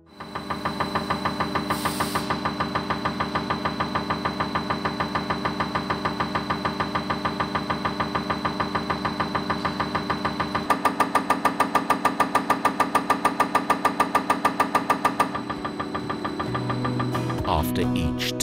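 A Caterpillar C15 injector on a test bench runs automatic tests, producing a steady rapid mechanical ticking that speeds up near the middle, then changes character with a low hum at the end, loud and close throughout.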